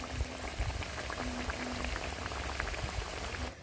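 Nakshi pitha frying in lightly heated oil, a soft, even bubbling fizz with scattered small pops that holds steady throughout before stopping abruptly at the end.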